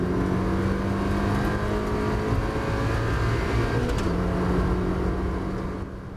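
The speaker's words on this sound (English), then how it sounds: "he slows down to around about 30 miles an hour and then can accelerate away up to the finish line" A Mazda MX-5 Cup race car at Croft circuit accelerates hard out of a slow hairpin, its engine note climbing steadily and loudly over about six seconds before easing slightly at the end.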